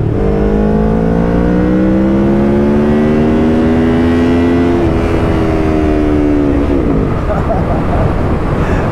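A 2019 Kawasaki Ninja 650 with a Woolich flash tune accelerates hard in second gear, its loud engine note climbing steadily in pitch for several seconds before a shift and a rough, wind-blasted drop.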